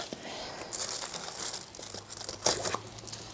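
Dead garden plants being cut in a spring garden, with a few crisp snips and crinkling rustles of dry stems and leaves, close and fairly quiet.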